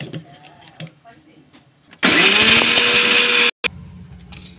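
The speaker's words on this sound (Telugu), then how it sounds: "వేసి ఫస్ట్ మిక్సీ పట్టుకుందాం మనం." A kitchen mixer grinder blitzes flattened rice and peanuts in one loud, whirring burst of about a second and a half, then cuts off abruptly; someone speaks before and after it.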